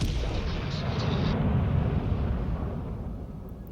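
Heavy naval gunfire from a British King George V battleship in World of Warships Legends, a single deep booming salvo that rolls out and fades over a few seconds.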